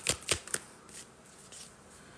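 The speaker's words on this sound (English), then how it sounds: "Just going to start shuffling," Tarot cards being shuffled: three quick crisp riffling bursts, then softer rustling and shuffling continues, close and fairly quiet.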